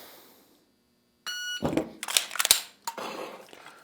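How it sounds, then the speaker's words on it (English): Shot timer in a shooting drill gives a sharp electronic beep, followed by a rapid string of loud, close gunshots at uneven intervals. "We'll go ahead and get our shot timer reset. And here we go."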